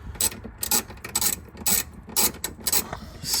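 Ratchet clicking in quick repeated bursts as a 10 mm socket on an extension loosens bolts on a Mercedes C-Class W205 C43 AMG during a diffuser upgrade, close and crisp with short pauses between strokes.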